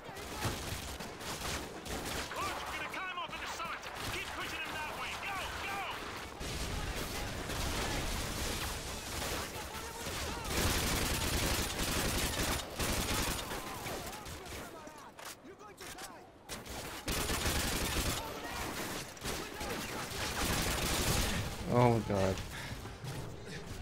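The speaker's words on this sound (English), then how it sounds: "I got 100 fucking people shooting at me" Dense gunfire from many enemies in Modern Warfare 2 crackles almost without pause, bursts and volleys overlapping near and far, with brief lulls and a few sharper hits.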